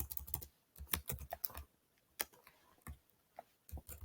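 Typing on a computer keyboard comes through as short, close bursts of quiet clicking with brief pauses between them, in an otherwise quiet room.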